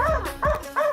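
Racing greyhounds at a dog-racing meet in Miraj bark three times in quick succession, loud and close, with a rhythmic bow-wow pattern and a slight yip to each bark.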